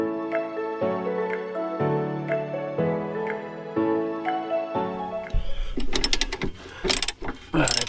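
Ratcheting on the U-bolt and axle hanger bolts of an RV travel trailer's leaf spring mount, as a repeated mechanical clicking rhythm in bursts, followed by louder metallic clanks and rattling near the end.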